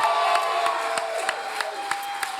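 Applause and cheering from a comedy club audience at Columbia City Theater in Seattle fill the room as a steady crowd roar, with sharp claps and whoops poking through regularly.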